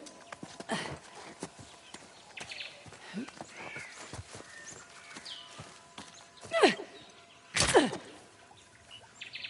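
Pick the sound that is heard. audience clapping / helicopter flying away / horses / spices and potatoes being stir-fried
horses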